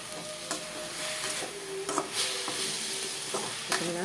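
Vallarai greens sautéing in a pan, a soft steady sizzle with occasional scraping stirs of a spoon against the pan, close and fairly quiet, no talking.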